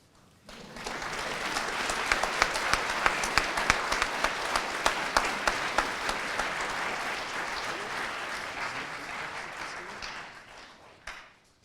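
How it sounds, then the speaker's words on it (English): Sustained audience applause fills a White Coat Ceremony hall as graduates leave the stage, a dense steady clapping that swells, holds for several seconds and tapers off at the end. "Round of applause while they're leaving the stage."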